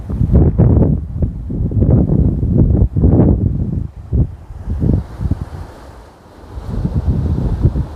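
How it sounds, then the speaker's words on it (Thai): Strong wind roars and gusts at a hillside campsite with tents pitched at Khao Yai Thiang, loud and continuous with buffeting surges on the microphone, easing briefly before picking up again. "ดูความแรงของลมนะครับ บอกเลยนะครับ ว่าแรงมากครับ"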